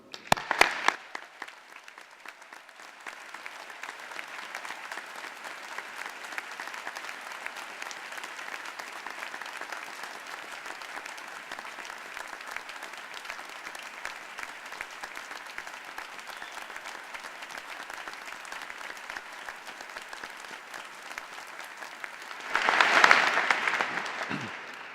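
Audience applause at a university graduation ceremony holds steady and moderate throughout, a broad wash of many clapping hands, with a sharp burst at the start and a louder swell near the end.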